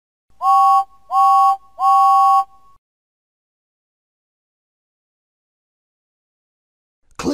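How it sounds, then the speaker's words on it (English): A Thomas and Friends engine whistle in the video game toots three times in quick succession, clear and bright, each blast about half a second long, followed by silence. "And he tooted three times on his whistle."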